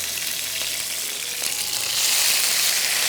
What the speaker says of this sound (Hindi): और इसको हमने तेज़ आंच पे करना है फ्राई